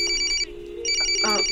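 A telephone rings in two close, loud bursts of bright trilling electronic tone, separated by a short gap, with a brief voice at the end.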